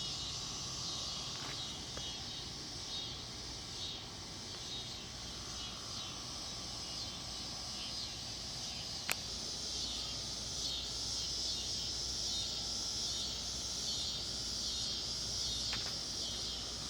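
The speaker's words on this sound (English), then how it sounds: "I don't know if those are crickets or locust type bugs" Insects that could be crickets or locust-type bugs chirp outdoors in a garden, a continuous high pulsing trill held at moderate level over faint background noise, with no speech.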